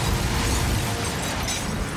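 Asteroid impact explosion as a documentary sound effect: a dense, roaring blast of broadband rumble and crackle that sustains loudly without pause over two seconds.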